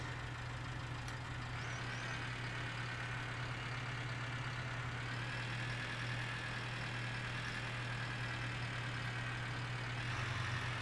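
A tractor engine idles steadily in the Cattle and Crops farming game, a constant low drone with a faint rise in tone near the end, heard alone without talk.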